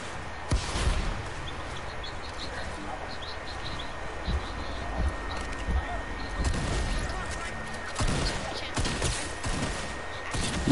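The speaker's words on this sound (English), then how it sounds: "This man is going to fire at me with his shotgun." Shotgun fire in a video game, several sharp blasts scattered over the stretch, with loud bursts near the start and around the middle, set against a busy background with bird-like chirps and a person talking over it.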